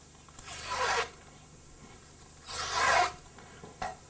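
Two rasping strokes of scissors stripping ribbon for wedding flowers, each about half a second long, close and clear in a quiet room, followed by a brief third scrape.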